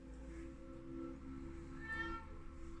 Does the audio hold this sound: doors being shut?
no